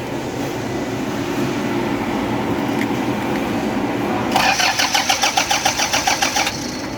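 A Toyota Hiace van engine cranks without starting, a rhythmic starter churn of about a dozen quick pulses heard close and loud over a steady idling drone, no talking.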